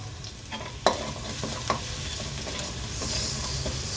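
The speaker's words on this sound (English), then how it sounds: "Allow the mustard seeds to splatter. Then add the ginger garlic paste or coarsely grounded ginger garlic." Ginger garlic paste frying on low heat with mustard seeds and chana dal in a pan for cauliflower podimas, a steady close sizzle with a few sharp pops and spoon clicks.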